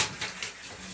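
Running water splashes steadily over a dog being bathed at home, a soft continuous hiss close to the microphone, with small shifts in flow.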